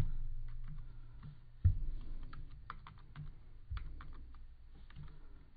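Steady keystrokes on a computer keyboard as code is typed, a run of close, light clicks with a sharper knock near the start, over a low background hum.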